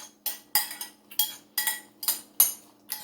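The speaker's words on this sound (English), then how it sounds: "Stir it around" Apple pieces with a squeeze of lemon juice stirred in a bowl, making a series of quick clinking and scraping strokes in an even rhythm, close and clear with no talking.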